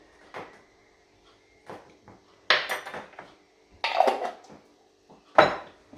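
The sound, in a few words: mixing tandoori spice marinade in a bowl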